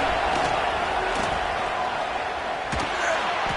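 Ohio State Buckeye crowd noise in a college football video game on third down, a continuous stadium roar with a few sharp thumps standing out, steady and loud throughout.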